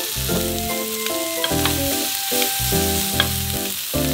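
Leftover rice stir-fried on a pork belly grill at a Korean barbecue meal with soju, sizzling steadily with a dense broadband hiss, while spatula scrapes and tool knocks clatter over it in uneven bursts.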